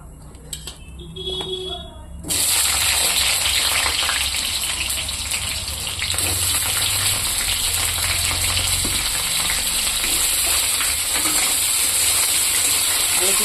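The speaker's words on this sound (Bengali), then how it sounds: "আলু আর পেঁয়াজটা আমি ভেজে নেব।" Potatoes and onions frying in a hot wok, a loud, continuous dense sizzle that bursts in after a quieter opening and stays steady with occasional scraping clatters.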